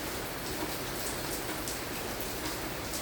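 Steady rain falls at a house, a dense even hiss of drops on surfaces that stays constant and fairly loud throughout with no voices.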